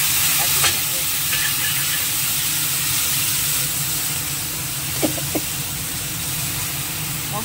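Potatoes frying with ginger paste in a pan give off a steady, close sizzling hiss, with a few faint clicks from stirring scattered through it.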